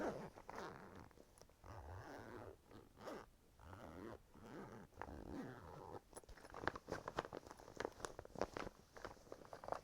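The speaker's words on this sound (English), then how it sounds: "I'm just going to play with the bag and the zipper." A makeup bag is handled close up, its zipper pulled in short rasping strokes amid soft rustling and fabric shuffling, quiet and intimate with irregular bursts.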